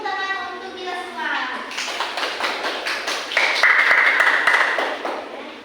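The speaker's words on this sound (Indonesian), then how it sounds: "Beri tepuk tangan untuk kita semua." Students in a classroom clap together in a burst of applause that swells and carries on under speaking voices, with a sharp ringing tone joining partway through.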